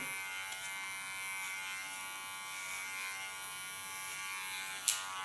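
An electric hair clipper buzzes steadily while cutting fine hair, a thin constant hum close by, ending with a couple of brief clicks.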